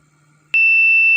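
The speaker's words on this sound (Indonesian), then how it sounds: "Jika ada kartu yang tidak dikenal mencoba untuk masuk, ada tulisan akses ditolak, dan buzzer akan hidup." An RFID door lock's buzzer sounds for an unrecognised card, switching on abruptly as a steady, loud, piercing electronic tone that holds unbroken to the end after a quiet moment.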